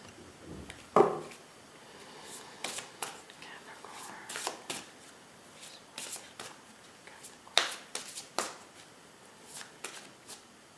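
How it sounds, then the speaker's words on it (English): Animal oracle cards being shuffled by hand, giving soft, quiet riffling and sliding flicks in irregular bursts, with sharper card snaps standing out near the start and middle, close by and without talk. "I feel like we're almost done shuffling the animal oracle cards"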